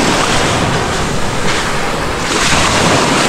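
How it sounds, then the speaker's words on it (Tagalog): Strong sea waves break on a beach, making a loud, continuous roar of surf mixed with wind rumble on the microphone, with no voices. "Lakas ng alon dito."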